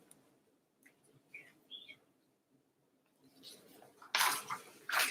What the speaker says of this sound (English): Okay, I have to show you the birds.